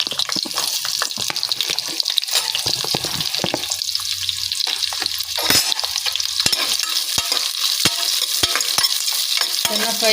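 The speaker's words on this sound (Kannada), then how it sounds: "ಈಗ 4 ಈರುಳ್ಳಿ ಹಾಕ್ಕೊತಾ ಇದ್ದೀನಿ ಫ್ರೆಂಡ್ಸ್." Four onions hit hot oil already holding fennel seeds and sizzle loudly and steadily up close, with a constant hissing fry and occasional stirring scrapes and clinks of a spoon throughout, while palak pulao is prepared.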